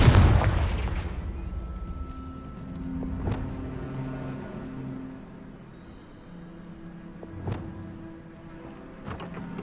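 A Confringo fire spell explodes in Hogwarts Legacy with a loud burst at the start that fades into a low rumbling tail, followed by a few fainter thuds and impacts in the game ambience.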